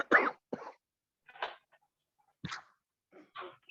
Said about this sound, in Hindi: आपकी खांसी सही नहीं हुई?